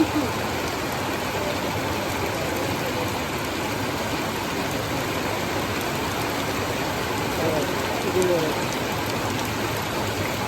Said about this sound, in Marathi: मे महिन्यात सकाळचे 8 वाजले आणि जोरात पाऊस आला